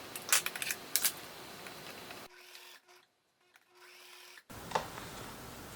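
A sewing machine stitching the seams of a reversible hooded jumper: clattery handling and clicks, then a faint steady motor hum in a quiet stretch before the clatter returns.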